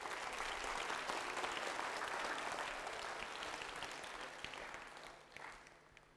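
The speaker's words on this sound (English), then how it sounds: "Sure, you can clap, you can clap." An audience clapping during a talk, a fairly faint, dense, sustained round of applause that slowly fades over about six seconds.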